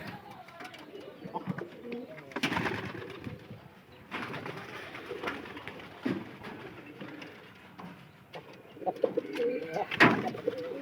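Pigeons coo softly and repeatedly at a pigeon loft, their low burbling calls rising and falling amid background noise and occasional voices nearby.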